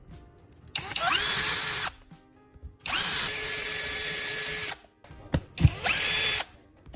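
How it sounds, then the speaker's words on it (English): A power drill bores into graphite and baking soda samples in three loud bursts separated by short pauses, with a clack of contact between the second and third. "Next, I bring out the drill."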